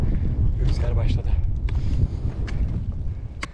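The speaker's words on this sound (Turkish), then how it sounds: "Zirveye gelince rüzgar başladı." Strong wind on a mountain summit buffets and roars across the microphone in gusty, rushing bursts, with a few faint clicks and rustles.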